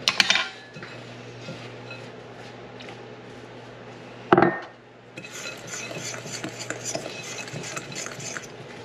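Chopped pecans and melted butter stirred together in a bowl, with a scraping clatter of utensil against the bowl at the start and again midway, then a softer continuous rustling mix, no voices.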